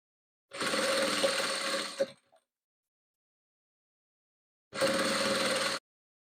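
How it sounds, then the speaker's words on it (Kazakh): A sewing machine stitches a patchwork quilt piece, running in one steady burst of about a second and a half, falling silent, then running again for about a second. The machine is close and no one speaks. "Міне құрағымызды тігіп шықтық."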